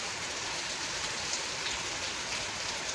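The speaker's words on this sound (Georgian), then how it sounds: "ძალიან ესაც წვიმს, მთელი ღამე ესე წვიმდა" Steady heavy rain falls outside through the night, a dense, even hiss of drops on surfaces with no breaks, fairly faint and continuous throughout.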